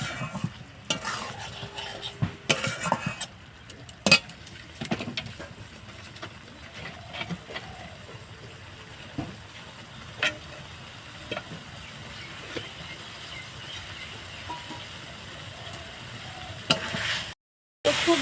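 Eggs cooked with spices in a pan for egg palak paneer, with a spoon stirring and scraping in steady bursts over a continuous low sizzle, close and fairly loud, a few sharper clinks standing out, no talking.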